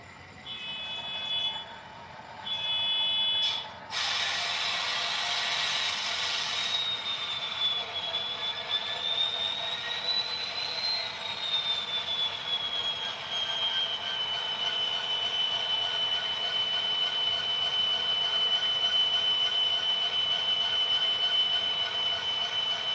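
Several HO-scale model diesel locomotives, including an Intermountain unit and an MTH SD70ACe with sound decoders, start up with a rising burst of engine sound and a sustained high whine and rumble that holds steady throughout.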